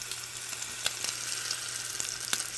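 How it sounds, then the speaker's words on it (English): A half tortilla sizzles in hot oil as it fries for Mexican tacos, a steady close crackle broken by sharp pops and spits. "Slowly add it to the hot oil."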